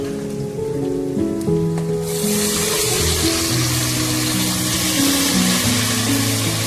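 Tamarind water being poured into a hot cooking pan of vegetables, a loud close rushing splash and hiss that swells after a couple of seconds and continues steadily, with an underlying tonal hum and no talk.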